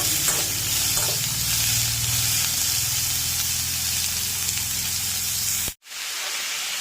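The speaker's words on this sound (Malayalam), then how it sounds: "ഒന്ന് ഇളക്കി വഴറ്റിയെടുക്കാം വഴന്ന് വരട്ടെ" Sliced onions sizzle and hiss steadily as they are stirred and sautéed in a hot pan for a Kerala-style capsicum thoran, a close, continuous frying sound with faint spoon scrapes that cuts off abruptly near the end.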